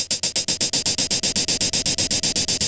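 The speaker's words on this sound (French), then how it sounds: "Donc le drive, ça donne quelque chose comme ça." A sample run through drive saturation in Ableton Live 11's Simpler, a loud, gritty, distorted burst repeating in a fast, steady pulse, bright and noisy, with nobody speaking.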